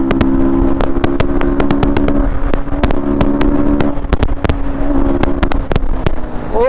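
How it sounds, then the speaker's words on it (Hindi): Yamaha MT15 and R15 V4 motorcycles accelerating in a night drag race: a loud, steady engine drone fills the air, riddled with sharp crackling pops, close and continuous throughout. "खुल्ला खुल्लम खुल्ला बाइक भगाएंगे हम दोनों"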